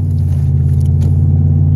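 Car engine idling after starting, a steady low rumble with an even mechanical pulse, loud and close throughout the short stretch.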